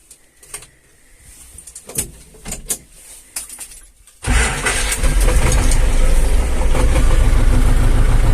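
A T-25 tractor engine cranks and catches after a few quiet knocks and rustles, then settles into a loud, steady diesel idle that runs close by to the end.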